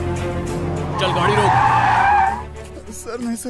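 Loud tire squeal from a car skidding in a Hindi-dubbed action film scene, one sharp screech lasting about a second over engine noise, followed by voices.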